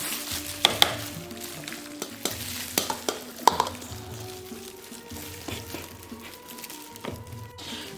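Minced meat sizzles and fries on a fajita cast iron pan, with steady close crackling and scattered sharp clinks and scrapes as it is stirred.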